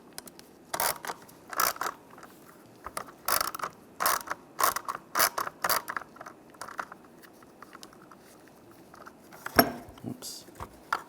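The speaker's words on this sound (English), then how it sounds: "Now we're going to take these screws out, use a T15 socket," A ratchet fitted with a T15 socket loosens screws on a 2007-2013 Chevrolet Silverado steering wheel, giving quick bursts of sharp clicking separated by short pauses, close and fairly quiet.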